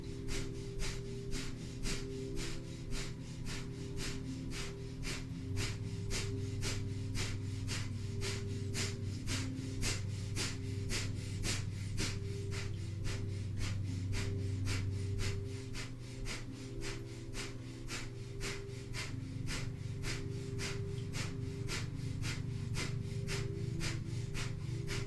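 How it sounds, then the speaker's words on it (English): Kundalini yoga breath of fire: rapid, evenly spaced panting breaths pumped through the nose, about two per second, sustained for the whole stretch over a low background drone, close and clear with no talking. "begin a minute of breath of fire. Panting like a dog through the nose,"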